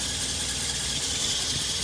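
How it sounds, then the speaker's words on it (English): A Volvo military jeep engine idles steadily at close range, a dense continuous rumble with a hissy upper wash and no speech over it. "with the engine running"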